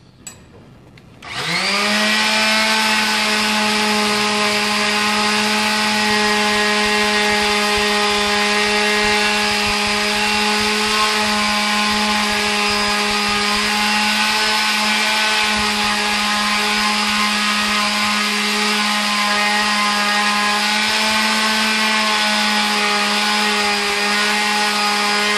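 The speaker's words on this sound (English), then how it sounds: "I'm going to hit this really, really hard with the 240 and then go back and work it with the sanding block" Sandpaper of 240 grit is worked hard by hand on a coated Tamiya CR-01 chassis rail. A loud, steady abrasive grind runs continuously, close up, for over twenty seconds after a brief quiet start.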